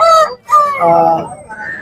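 A rooster crows loudly and close at a poultry market in Kunnathur, Tamil Nadu, a short clipped call followed by a longer drawn-out crow, with faint bird noise behind.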